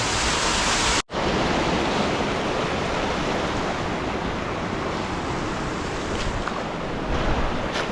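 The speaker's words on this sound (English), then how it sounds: "look at the waterfall up there" A Himalayan mountain waterfall roars as a loud, dense, unbroken rush of falling water, cut off abruptly for a moment near the start and then continuing steady.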